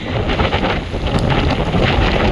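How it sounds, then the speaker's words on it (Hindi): Strong gusting wind roars steadily across the microphone outdoors on an empty university campus in Canada, a dense continuous rush with no pauses and no voices. "बहुत तेज हवा है, बहुत तेज"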